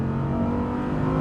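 An Audi R8 with a heavily restricted exhaust pulls hard under acceleration, its engine drone steady, dense and loud, close by, with no voices over it.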